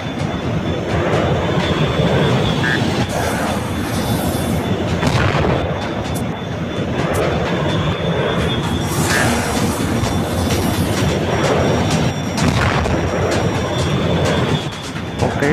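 Jet aircraft engines roar continuously in the Fox One combat flight game's Burning Sands mission, a loud, steady rumbling drone with repeated bursts that sound like missile blasts or cannon fire layered throughout.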